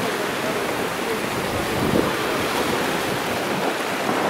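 Choppy lake waves wash ashore at Sylvan Beach in a continuous rushing surf, heavily buffeted by wind across the microphone, with no talking.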